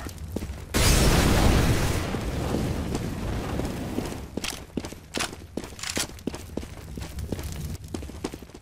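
An incendiary grenade in the video game CS:GO bursts with a loud whooshing roar of flame that fades into a crackling burn, followed by a string of quick footsteps and clicks.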